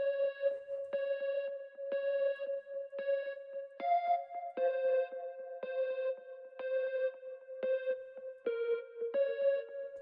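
A dry synth riff from a preset in Analog Lab, played without any effects, repeats short plucked notes in a steady pattern that shifts up in pitch around the middle, with no voices.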